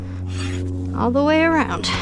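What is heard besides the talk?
hoof rasp smoothing a horse's hoof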